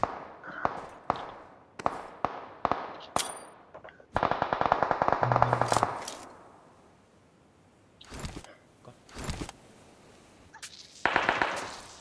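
Gunfire in PUBG Mobile during a squad custom-room match: sharp single shots in quick succession, a dense burst of automatic fire, then scattered louder reports after a lull.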